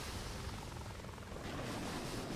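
Rocket choppers, helicopters in the video game Boom Beach, a faint steady whirring rotor drone held throughout a short stretch with no talk.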